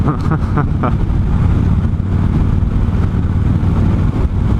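A 2015 Victory High Ball motorcycle's exhaust rumbles loud and close, a continuous deep engine roar with steady throttle and no pauses.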